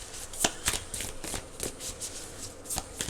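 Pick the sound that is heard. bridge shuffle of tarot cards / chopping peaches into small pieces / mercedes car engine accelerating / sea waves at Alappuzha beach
bridge shuffle of tarot cards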